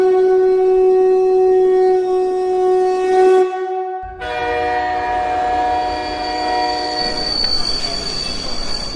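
A train horn blares long and loud at a station with a sustained tonal blast, cuts off briefly, then sounds again alongside squealing metallic wheel noise as the train moves.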